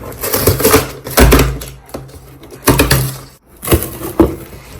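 A small delivered parcel being opened close up, with loud bursts of crackling, tearing and rattling packaging in uneven clusters and brief pauses between them.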